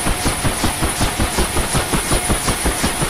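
Loud mechanical whine with a steady rapid rhythmic chopping pulse and a high-pitched tone, a UH-1H Huey helicopter turbine starting up from cold in the DCS World game, constant and close.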